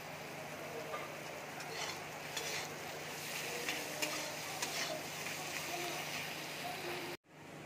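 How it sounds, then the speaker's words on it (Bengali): Soft, steady sizzle of paneer frying in a pan with sugar and chilli flakes, with occasional light taps of a utensil against the pan, fairly quiet throughout, cut off briefly near the end. "পনিরটা দেখো ভাজা হয়ে গেছে"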